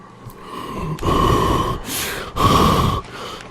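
Staged breathing in a supposed ghost recording: two loud, heavy gasping breaths, each about a second long, with a fainter one between them, close to the microphone.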